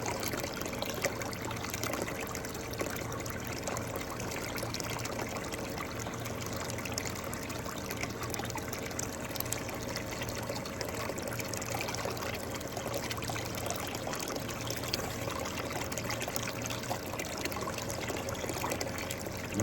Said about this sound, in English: the water doesn't seem to be flowing like it normally has